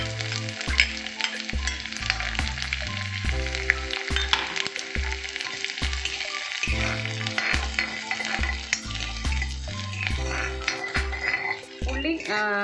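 Onion frying in a pan with dried red chillies for cheera pachadi, a continuous crackling sizzle with occasional stirring clinks, close and steady, alongside a repeating background music track.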